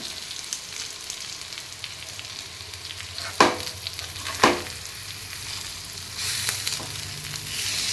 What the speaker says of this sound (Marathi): दुसऱ्या साईडने पण छान असं फ्राय करून घ्यायचं आहे आपल्याला.